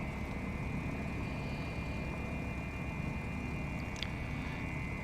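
A Beech Duchess piston engine holds steady at 1000 RPM in a flight simulator, giving a constant low droning hum with an even whine and no change in pitch, plus one brief click near the end.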